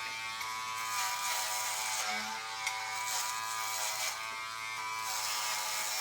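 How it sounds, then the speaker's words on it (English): A cordless Andis rotary-motor clipper buzzes steadily while cutting hair at the neckline, a close, continuous motor hum with slight shifts as hair feeds through the blades. "I'm feeding the hair through the clipper"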